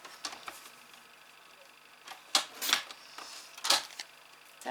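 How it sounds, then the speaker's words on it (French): Scissors or a blade cut through paper for a beginner's mini album folio, with a few sharp snips and rustles spaced apart in a quiet room. "Là je vais couper."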